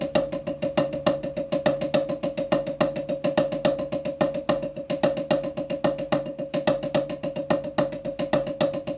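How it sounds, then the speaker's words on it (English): Drum paradiddles with accented single strokes on the upbeats, played as a fast, even stream of crisp hits with a regular pulse of louder accents throughout, close and alone with no talk. "this time, our accents on those 4 single strokes are going to be on the upbeats"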